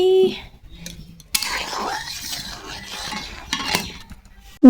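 Ghugni, a Bengali curry, being stirred in a pot: steady scraping and swishing strokes, fairly close and continuous, with a sharper burst of stirring partway through and a brief clink at the end.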